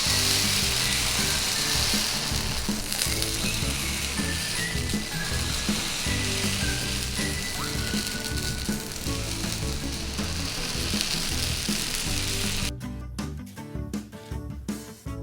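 Dosa batter spread thin across a hot pan sizzles loudly and steadily for about twelve seconds. The frying then breaks off into scrapes and clatter near the end.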